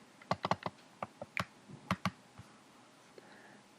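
Quiet, crisp clicks and keystrokes from a computer mouse and keyboard come in an irregular cluster of sharp taps, then thin out toward the end, with no talking.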